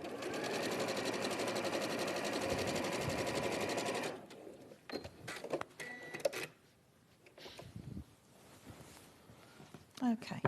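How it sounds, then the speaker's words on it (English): A sewing machine stitches fabric during a garment-making session, a rapid even rattle of the needle running steadily for about four seconds before stopping, followed by quieter handling clatter and faint knocks nearby. "So I'll literally just sew that bit up"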